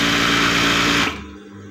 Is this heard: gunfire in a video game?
no